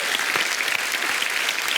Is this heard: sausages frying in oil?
no